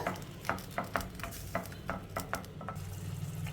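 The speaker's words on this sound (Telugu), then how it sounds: "ఇప్పుడు ఈ పాలకూర పేస్ట్ వేసిన తర్వాత ఒక రెండు నిమిషాలు పచ్చివాసన పోయే వరకు ఫ్రై చేసేసుకోవాలి" Spinach paste masala for palak paneer sizzles in a pan while a spoon stirs it in quick scraping strokes, clear and close, with no talking.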